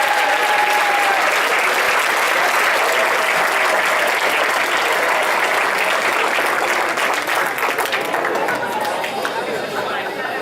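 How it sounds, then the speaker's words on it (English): Crowd at the Wellsburg Chamber of Commerce annual dinner and dance claps loudly for about ten seconds, a thick, continuous applause with chatter and a few voices underneath, tapering slightly toward the end. "Wellsburg, give yourself a round of applause."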